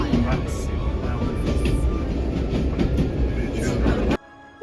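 A train on the line near the Glenfinnan viaduct in Scotland rumbles steadily and loudly up close, with a constant rolling roar and faint rail noise before cutting off abruptly near the end.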